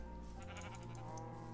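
Minecraft sheep bleating in a farm pen, a short in-game bleat standing clear over a steady background of game ambience and music.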